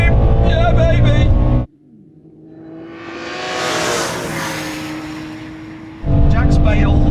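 BMW M3 accelerating hard in third gear, heard from inside the car: a loud engine note climbs and swells between bursts of excited talk.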